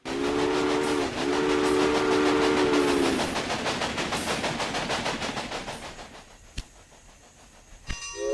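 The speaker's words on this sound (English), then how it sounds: "Your train is now traveling between Omaha and Norfolk." A steam locomotive in the Railway Empire game, running between Omaha and Norfolk, sounds a long two-part whistle over chugging rail noise, then rumbles away and fades with a few clanks.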